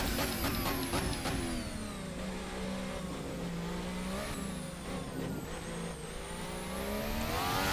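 A race car engine in the Assetto Corsa racing game revs hard and accelerates, a loud continuous whine rising and falling through gear shifts, with no talking.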